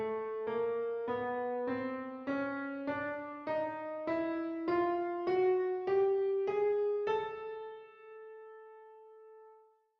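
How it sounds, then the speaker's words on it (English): A chromatic scale in equal temperament rises note by note in twelve even, evenly spaced steps, each tone struck cleanly on its own, with the last note ringing out and decaying alone. "If we put all of these minor seconds in sequence, we get what we call a chromatic scale."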